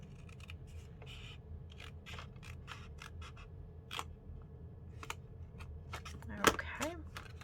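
Faint snipping and scratchy cutting as the middle is cut off a wooden root candle gift holder, with a sharper crack near the end against low room noise.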